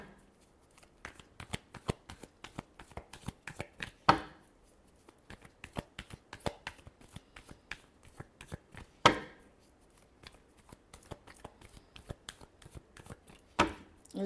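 Tarot cards are shuffled by hand close up, giving a run of crisp, rapid riffling clicks that come in uneven bursts, with several sharper snaps standing out.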